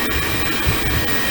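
A Xiaomi Vacuum Mop 2 robot vacuum runs indoors with a steady, close, fairly loud whirring motor hum and airflow rush, holding an even level throughout.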